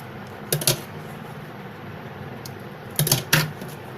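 Paper being cut with scissors to shape a petal for a handmade paper rose, heard as two close pairs of quick crisp snips with near silence between them.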